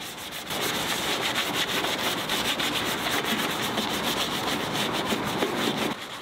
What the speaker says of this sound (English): jump right in with the Swiss Fax detail brush